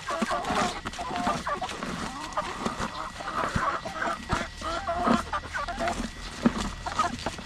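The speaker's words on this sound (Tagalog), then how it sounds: "Nandito na natin yung mga manok." Backyard chickens cluck and murmur close by in an uneven, busy chatter, with a person's voice occasionally mixed in among the birds.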